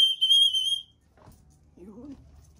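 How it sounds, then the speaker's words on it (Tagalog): A single sharp, high whistle blast lasting just under a second calls young pigeons, followed by quiet outdoor stillness and a faint low voice. "Ito yung pito par."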